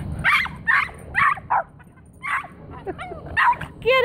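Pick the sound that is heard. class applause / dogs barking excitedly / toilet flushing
dogs barking excitedly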